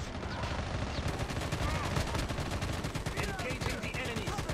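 Dense, rapid video-game gunfire from Call of Duty Mobile battle royale squad play, with continuous overlapping shots and automatic bursts at steady volume, and players' voices chattering underneath.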